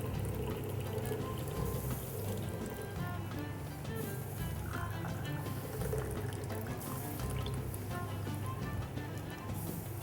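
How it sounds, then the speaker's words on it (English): Water pours from a teapot into a teacup in a Moroccan tea preparation, a steady, continuous trickle lasting several seconds, fairly quiet with no voices. "Then you pour out that water"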